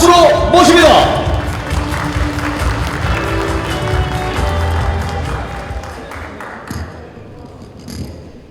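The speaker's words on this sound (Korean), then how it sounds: "김상윤 교수님을 박수로 모십니다" An audience at a data-industry networking forum breaks into applause to welcome a university professor as keynote speaker, a burst of clapping that tapers off over several seconds in a hall.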